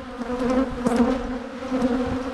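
Dense, steady droning of many honey bees around a hive shortly after a swarm, close and continuous with a few louder buzzes passing near.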